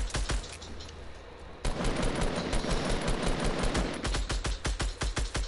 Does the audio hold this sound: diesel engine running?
no